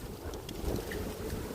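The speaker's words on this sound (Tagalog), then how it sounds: "Lakas ang hangin." Strong wind buffets the microphone in a continuous low rumble and roar, with no voices.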